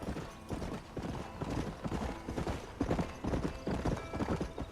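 Horse hooves clop in a quick, steady rhythm as a rider travels across open ground in the video game Red Dead Redemption, continuous and fairly close, with a brief whinny-like sound in the mix.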